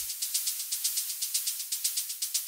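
Electronic white noise shaker in an Afro House production, a bright, noisy, hissy sound cut into short repeated hits with a steady, quick, even rhythm, played alone at moderate level.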